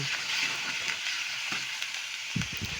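Garlic stir-frying in a pan as the base for a Thai pork and shrimp dish, giving a steady, close sizzle with soft stirring scrapes and a louder clatter near the end.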